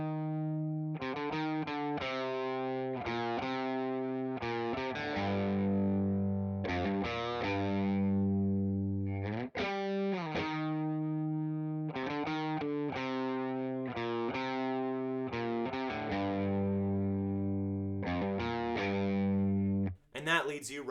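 A loud, distorted electric guitar plays a repeating chord riff in steady rhythmic bursts, with brief gaps between phrases, continuing for the whole stretch.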